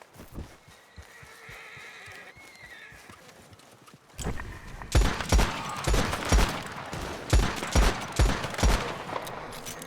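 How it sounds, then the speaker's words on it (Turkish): Gunfight in the video game Red Dead Online, with a burst of loud, rapid shots and sharp cracks starting partway through, following quieter horse hooves and a whinny. "Müthiş bir çatışma var şu an."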